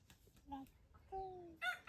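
A rooster crows in short, strained bursts, fairly close, with faint background noise between calls.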